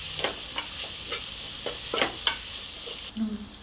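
Ginger garlic paste being stirred into a hot frying mixture for nombu kanji, with a steady sizzle broken by several soft scraping strokes of a spoon and one sharp clink near the end.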